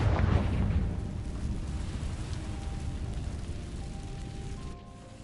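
A Confringo blasting spell explodes in Hogwarts Legacy, opening with a loud, deep boom that fades into a long, low rumbling decay with no voices.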